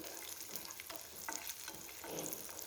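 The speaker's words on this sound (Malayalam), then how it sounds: "ഞാൻ ഇതിലേക്ക് നമ്മൾ എടുത്തു വെച്ചിട്ടുള്ള അണ്ടിപ്പരിപ്പ് മുന്തിരിയൊക്കെ ഒന്ന് ഇട്ട് കൊടുക്കുന്നുണ്ട്" Cashews and raisins fry in melted ghee with a steady, close sizzle, broken by small stirring scrapes and crackles, with no one speaking.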